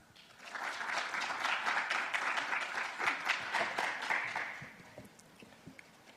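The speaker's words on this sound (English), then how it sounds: "let's welcome them with a big round of applause" Audience applause at a seminar for a Korean development event: a dense, steady wash of many hands clapping that swells quickly, holds for about four seconds, then thins out to scattered claps.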